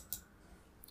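A single faint, crisp computer mouse click, with another soft tick near the end, against a quiet background.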